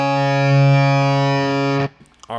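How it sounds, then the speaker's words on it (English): A low D on an electric guitar tuned down a half step sustains as a loud, distorted note with thick overtones, then is abruptly muted, followed by a brief faint trailing noise. "And if you want the D, it sounds like this."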